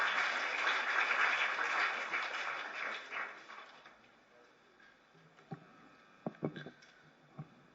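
An audience applauds at a public function where a chief minister meets mountaineers. The clapping is loud and dense at first, then fades over a few seconds into scattered taps and clicks.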